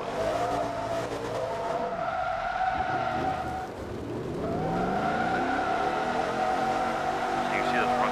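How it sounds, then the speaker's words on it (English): A car in Forza Motorsport 2 spins donuts, its engine droning while tires squeal in long sustained howls that dip briefly and then rise again, with someone talking over it. "I'll demonstrate this by doing some donuts"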